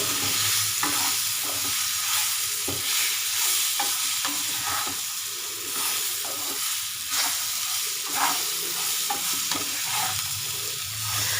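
Ivy gourd (kundru) frying in masala over a low gas flame, a steady close sizzle with repeated stirring scrapes running throughout, no voices.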